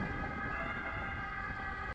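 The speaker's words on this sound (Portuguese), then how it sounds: "a ambulância." Ambulance siren, a steady wailing tone heard from a distance under street ambience, ending in a brief sharp knock.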